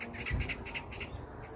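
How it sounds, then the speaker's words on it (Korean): Magpies call from a park lined with huge old cherry blossom trees on an April day, giving harsh, rhythmic chattering squawks at a moderate distance over a steady outdoor hiss. "까치들의 울음소리가 들리는데"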